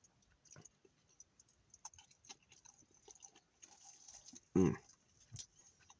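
Crunchy food is chewed close to the mic in a quiet room, giving soft irregular crunches and clicks with one louder, sharper crunch near the end.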